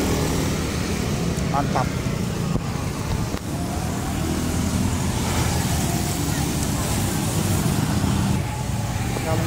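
A Honda PCX ABS 160 keyless scooter engine idling steadily after being switched on, a low continuous hum close by with a short spoken word over it.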